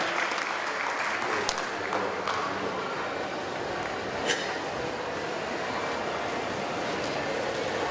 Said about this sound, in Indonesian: kita sambut dengan tepuk tangan Ibu Linda Gumelar